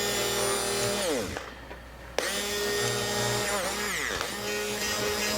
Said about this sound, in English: I don't know if my blender's working.